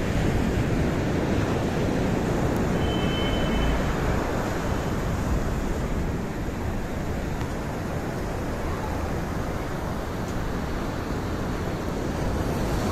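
Big sea waves breaking on the beach at Puri, a loud, unbroken broadband roar of surf mixed with wind buffeting the microphone, steady throughout with no distinct individual crashes.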